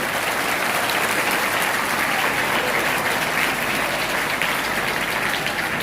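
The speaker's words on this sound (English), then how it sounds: "Big clap for them." Sustained audience applause at a school mock parliament event, a dense, steady wash of many hands clapping close by with no break, for students and helpers.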